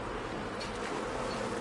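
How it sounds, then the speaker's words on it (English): A steady, droning swarm of flies buzzes around dung in the video game Ark, continuous and fairly loud with no pauses or speech. "it's all buzzing flies. So it's an annoying sound."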